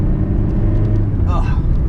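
A small diesel hatchback, a model also offered as a 1.4 TDI, climbing a hill with a steady low engine rumble and road noise throughout, under a brief passing voice.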